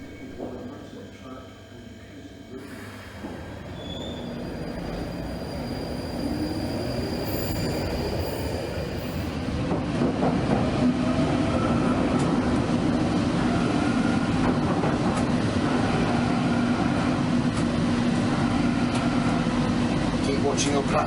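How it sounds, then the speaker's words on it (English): A London Underground Northern line tube train runs through the tunnel between Edgware and Morden via Bank, its rumble building to a loud, steady roar with wheel squeal, and a voice talks over it. "we now travel over the very first section of tube railway in the world"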